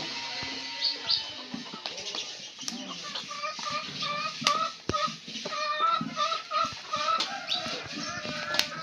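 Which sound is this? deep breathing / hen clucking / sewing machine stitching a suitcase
hen clucking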